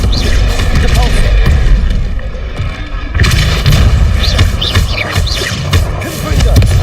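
Spell combat in the video game Hogwarts Legacy with a Depulso force-push spell cast amid rapid magical blasts, loud booming impacts and crackling bursts throughout, a shouted voice cutting in at times.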